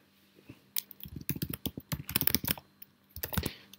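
Rapid, uneven bursts of keystrokes on a computer keyboard as a password is entered, close and clear, with short pauses between clusters and no talking.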